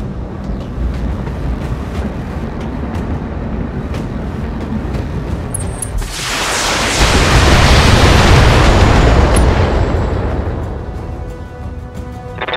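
A BattleTech mech is destroyed in a long, heavy explosion. A loud rumbling blast swells partway through over steady battle noise, then slowly fades.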